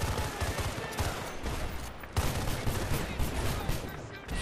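Rapid bursts of gunfire in Battlefield: Bad Company 2, dense and continuous across the moment, with a sharp loud crack partway through amid ongoing battle noise.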